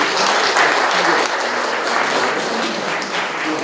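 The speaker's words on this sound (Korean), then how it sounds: "또 다큐 스토리의 대표이신 김덕영 감독님을 큰 박수로 자리에 모시겠습니다." An audience applauds warmly at a lecture event in a hall, a dense, steady clatter of many hands clapping that holds for several seconds and eases off slightly toward the end.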